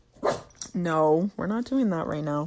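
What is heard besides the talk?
dog barking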